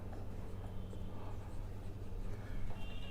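Writing on a board during an electrical circuits lecture, heard as a soft, steady scratching that runs the whole time over a low room hum, with no talking.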